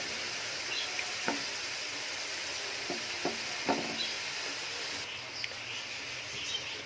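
Kachnar chicken frying slowly over a low flame, giving a steady soft sizzle with a handful of light spoon or pan taps scattered through it.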